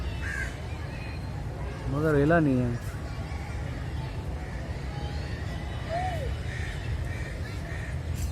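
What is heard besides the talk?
crows cawing at the zoo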